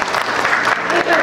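An audience at a teachers' association conference session clapping together, a loud dense burst of applause filling the room briefly, with a voice faintly mixed in.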